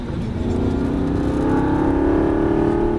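Aston Martin V8 Vantage pulling hard in third gear, its V8 engine note climbing steadily in pitch and growing louder over three seconds, close and continuous with no voices.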